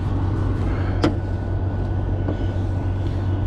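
A car engine idles steadily while warming up on a cold day, a low, continuous rumble close by with a single brief click partway through and no talk.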